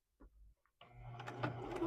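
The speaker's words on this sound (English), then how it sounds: "I'm going to back stitch at the end." A sewing machine back stitches through fabric, starting with a few soft clicks before settling into a close, steady mechanical whir.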